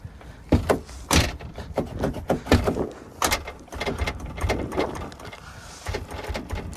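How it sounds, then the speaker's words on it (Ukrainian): A car door on a Jeep is shut several times, each closing giving a sharp knock followed by a loose, buzzing rattle from something inside the door, close by with no voices. "І коли ми закриваємо з вами двері, вони создають отакий звук."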